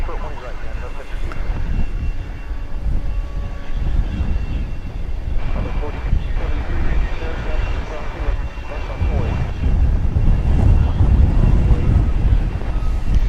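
Boeing 787-9 Dreamliner airliner bound for Sydney passing at DFW Airport, its engines a loud, steady, broadband roar that swells toward the end, with wind buffeting the microphone and a person talking over it.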